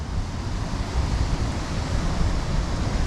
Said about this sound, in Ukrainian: От тепер ти насолоджуєшся саме цим водоспадом.